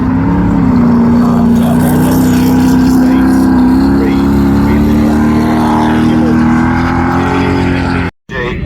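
Autograss racing cars of the men's Class 10 field at the nationals pull away at a race start, a loud and steady engine roar that holds throughout. Near the end the sound drops out briefly and then returns.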